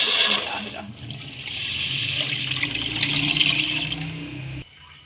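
About 1.5 litres of water is poured into a pot sitting on a stove for sweet jaggery vermicelli, a loud, steady gushing splash that cuts off abruptly near the end.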